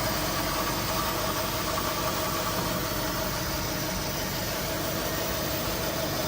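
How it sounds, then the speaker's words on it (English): Steady, loud idle from the V8 of a 1955 Buick Special Series 40 two-door pillarless hardtop, heard close up with an even, continuous rumble and faint mechanical knocking throughout. "V8 running nicely."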